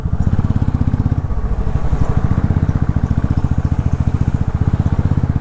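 A motorcycle labouring up a steep, rough mountain road on the old Silk Route from Gangtok to Nathula in first and second gear, with a loud, close, steady thumping engine pulse throughout and no talk.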